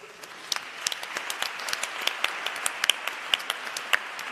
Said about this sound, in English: let's get one last round of applause for this incredible panel